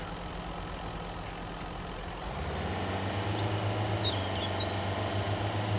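A truck in the Mist Survival game starts up, and its engine settles into a low, steady rumble that grows slightly louder as it pulls away. A few faint chirps sound above the engine.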